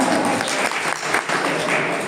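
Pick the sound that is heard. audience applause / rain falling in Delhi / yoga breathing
audience applause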